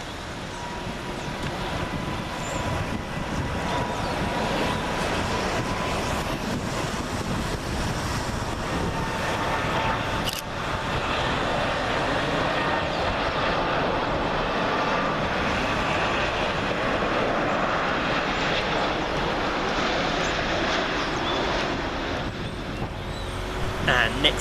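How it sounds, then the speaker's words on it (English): An Air Transat Airbus A330-243 arrives on runway 23R at Manchester Airport, a steady broad roar lasting throughout with a voice talking over it. "Air Transat Airbus A330-243, registration Charlie Golf Uniform Bravo Charlie, working flight TZS206 from Toronto"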